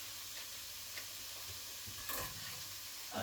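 Lean 5% minced beef goes into a pan of softened onions with a steady frying sizzle, a few stirring scrapes and a louder flare midway, close and fairly quiet, with no talking.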